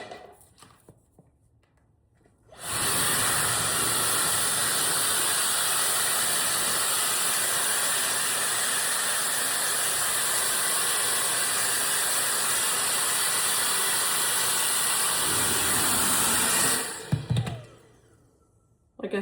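A Dyson Supersonic hair dryer blowing steadily for about fourteen seconds, a loud, even, high whine and airy hiss that switches on abruptly and cuts off, with quiet moments before and after.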